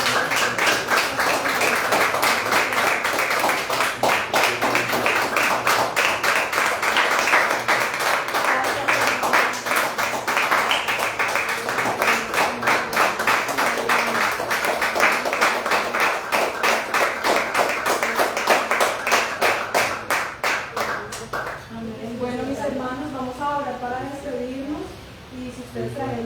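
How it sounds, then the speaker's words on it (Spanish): A church congregation claps in a fast, steady, rhythmic beat for about twenty seconds, loud and sustained, then it fades as voices take over and people talk. "un aplauso al Señor"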